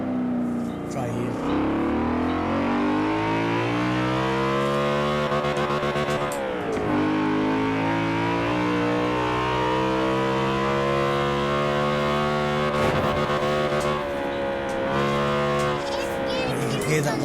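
BMW E92 M3 V8 in Forza Horizon 4 revving and shifting up and down through gears with a steady whining whistle riding over the engine drone, loud and continuous, with brief voice beneath.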